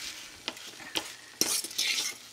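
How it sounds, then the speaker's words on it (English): Currants being stirred and mashed in a pot over low-medium heat for jam, a few distinct spoon scrapes and knocks against the pot with a soft bubbling sizzle, quiet and close. "So I'm just going to keep stirring this and mashing it for a couple of minutes until it starts looking jammy."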